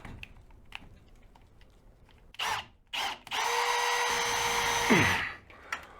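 After a few faint taps and short bursts, a power drill whirs loudly and steadily for a couple of seconds while drilling upward into a trailer roof, then winds down with a falling pitch.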